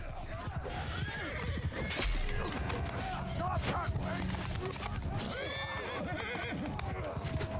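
Horses in the Mount and Blade Bannerlord battle game give repeated whinnies and neighs over clattering hooves and combat clatter, moderately close, with a player talking over the scene.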